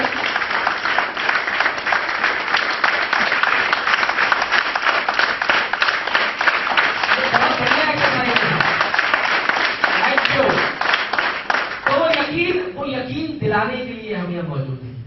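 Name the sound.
audience applause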